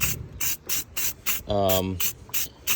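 Rustoleum bedliner is sprayed onto a truck bed in a quick series of short rhythmic hissing bursts, close and fairly loud, with one brief tonal squeak partway through.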